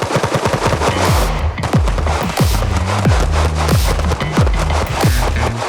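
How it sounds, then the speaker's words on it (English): Rapid volleys of Walther PDP pistol shots at a crowded range event with several shooters, loud close cracks in dense overlapping bursts with barely a pause, no talk. "I'm going to continue to just add pressure till the gun goes off and then reset it"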